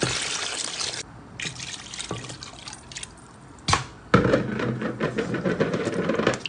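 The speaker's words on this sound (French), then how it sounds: "je vais mettre de l'eau" Water is poured into a pot of chicken simmering in tomato sauce, a steady close trickle and splash with a brief pause, then a louder, fuller pour toward the end.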